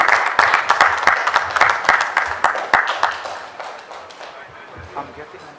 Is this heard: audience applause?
yes